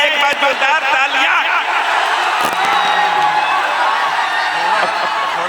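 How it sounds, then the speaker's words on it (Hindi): Crowd at a political rally where Pawan Singh is being welcomed, clapping and cheering loudly and continuously with scattered whoops, a dense, steady roar of applause. "एक बार जोरदार तालियां"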